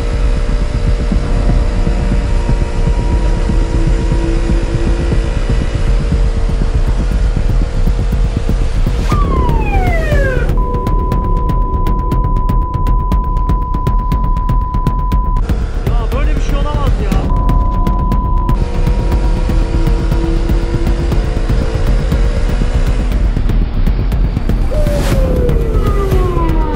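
Ambulance siren on a road wails loud and continuous, sweeping up and down in pitch through the whole stretch over steady traffic rumble.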